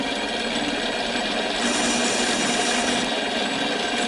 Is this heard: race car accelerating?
no